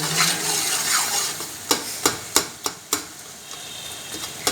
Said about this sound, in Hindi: अब इसके अंदर मसाले डालते हैं जो मैंने आप लोगों को बताए थे, वो मसाले डाल दिए। अच्छे तरीके से मिक्स करते हैं।